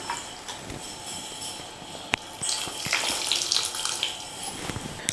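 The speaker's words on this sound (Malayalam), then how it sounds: "ഞാൻ പുളിക്കിവിടെ ചേർക്കുന്നത് വാളൻപുളി അഥവാ പിഴുപുളി കുറച്ച് പിഴിഞ്ഞ് ചേർക്കുകയാണ് ചെയ്യുന്നത്" Tamarind water squeezed and poured into a simmering Kerala-style drumstick curry, a steady watery splashing and trickling with a few soft clicks, fairly close and alone without talk.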